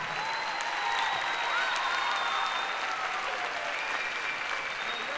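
A crowd at a drag queen gala in Corralejo keeps up dense, continuous applause at an even level, with faint whistles and cheers mixed in.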